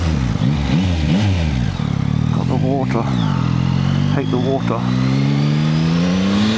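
A 2025 Yamaha MT-09 SP motorcycle with an Akrapovic exhaust revs up and down close by, its engine note rising and falling repeatedly while someone talks over it.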